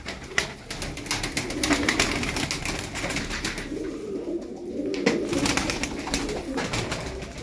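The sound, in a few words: tumbler pigeons cooing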